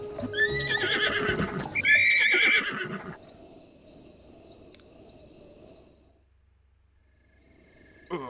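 A horse whinnies loudly in The Legend of Zelda: Breath of the Wild, with shrill rising and falling neighs, then low rumbling ambience that fades toward near silence before a brief final sound.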